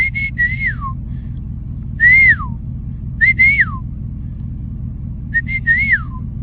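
A person outdoors whistles at deer, repeating the same short falling tune four times over a steady low engine rumble.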